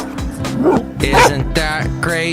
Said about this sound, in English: barks and sounds a little like this